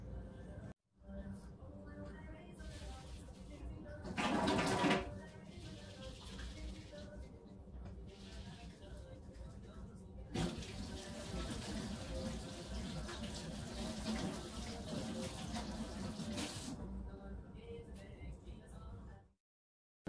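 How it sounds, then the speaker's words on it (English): Hands washed under a running kitchen tap before baking banana bread, a steady hiss of flowing water with brief louder splashing bursts, fairly faint and close, stopping abruptly at the end. "I'm going to wash my hands."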